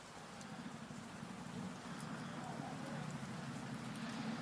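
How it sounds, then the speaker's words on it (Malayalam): Heavy, steady rain pours over Thiruvananthapuramcity during waterlogging, a dense continuous wash of hiss and patter with a low rumble beneath, unbroken and fairly even throughout. "ഗോകുൽ, എന്തായാലും ഉച്ച മുതൽ തുടങ്ങിയ മഴ കാരണം തലസ്ഥാന നഗരത്തിന്റെ പ്രധാനപ്പെട്ട എല്ലാ ഭാഗങ്ങളിലും വെള്ളം കയറി എന്ന് വേണം പറയാൻ."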